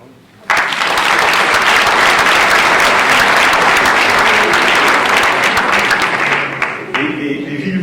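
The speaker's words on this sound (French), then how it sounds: "On peut l'applaudir." A crowd at a mayor's New Year address in Vandoeuvre bursts into loud, sustained applause that starts suddenly, stays thick and even for about six seconds, then thins out as a voice begins underneath.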